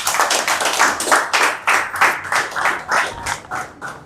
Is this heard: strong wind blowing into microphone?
no